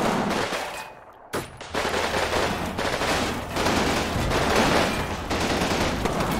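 Gunfire from the Combat Mission Red Thunder video game, dense overlapping rifle and machine-gun bursts in a loud, continuous battle din with no voices.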